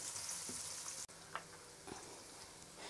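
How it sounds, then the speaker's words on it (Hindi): Onions frying in oil in a pan for palak murgh, a steady broadband sizzle throughout with a brief dropout near the middle and a few soft pops or stirs, close and fairly loud, no speech. "अब हम इसमें प्याज डालेंगे। और इसे तब तक हम गोल्डन ब्राउन फ्राई करेंगे जब तक ये गोल्डन ब्राउन हो जाए।"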